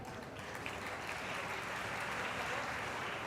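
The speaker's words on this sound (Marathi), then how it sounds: "टाळ्या." Applause from an audience at a university lecture event as a guest is felicitated, a steady, fairly faint wash of clapping lasting throughout without a clear start or end.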